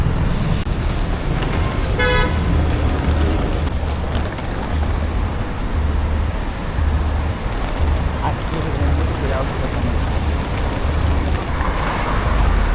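Busy rainy street traffic in Rio de Janeiro on a Friday, a dense continuous roar of cars with a clear horn toot near the start, loud and close throughout with a voice faintly mixed in.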